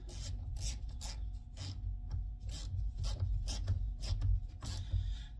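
A bolt on a Ram truck's positive battery terminal being tightened by hand, giving repeated short rasping, scraping strokes in an irregular rhythm, close up, with no talking.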